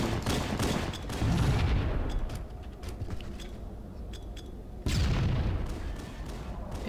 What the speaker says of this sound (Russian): Да кто, блядь, там стреляет?